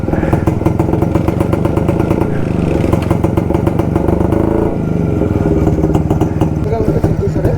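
A stock, unmodified 1969 motorcycle throbs close up with a steady, loud engine pulse, its note dropping and rising as gears change mid-ride, while someone talks over it.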